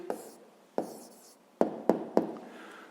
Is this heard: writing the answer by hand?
yes